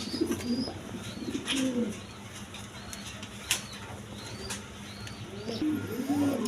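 Kashmiri Resar pigeons at a market stall coo in repeated soft rolling calls, with occasional wing flaps and a sharp click, close by and mostly without talk.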